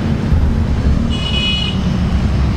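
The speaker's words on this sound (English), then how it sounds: "The traffic in Vietnam is a lot" Busy street traffic in Vietnam: a dense rumble of engines close by, with a brief horn toot in the middle, loud and continuous with no talking.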